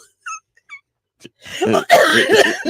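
A few small sounds, then a burst of harsh, repeated coughing, loud and close, in rapid fits.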